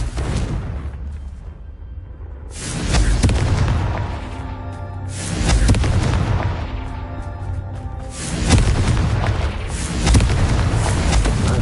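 Confringo fire-spell blasts in the Hogwarts Legacy video game, several loud booming explosions bursting at intervals over a dense rumbling game soundscape, with no talking.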